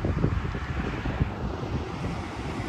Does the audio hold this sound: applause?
no